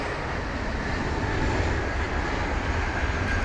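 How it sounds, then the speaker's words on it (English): An Aer Lingus Airbus A320neo jet departs Heathrow in wet conditions, a steady broadband engine roar with spray hiss, constant and moderately loud from a distance, with no voices. "That Aer Lingus was off to Cork, flight number EI715. On board the A320neo"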